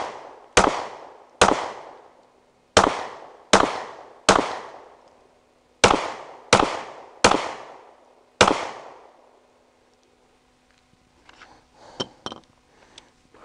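A Sig P365 pistol fires nine loud, sharp shots at irregular intervals, each ringing out briefly, followed by quiet metallic clinks.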